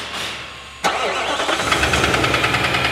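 A 2018 Nissan NV 3500 van whose engine was damaged by missed oil changes cranks and catches, then settles into a rough, pulsing idle up close.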